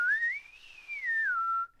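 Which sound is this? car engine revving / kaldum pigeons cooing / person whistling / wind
person whistling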